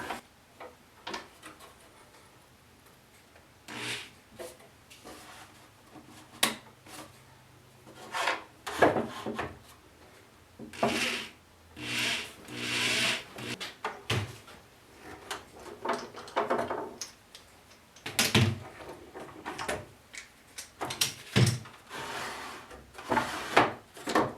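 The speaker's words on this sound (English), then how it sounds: "I'm going to put a couple screws in it to hold it until I can get the handle to put on it." Screws being driven into a cedar drawer front on a cedar and epoxy coffee table, heard as bursts of rasping, ticking drive noise with pauses between, close by and fairly loud with no talking.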